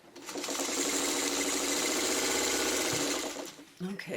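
A domestic sewing machine stitches quilt block pieces for a square-in-a-square block in one steady, close whirring run of about three seconds, then stops with a small clunk.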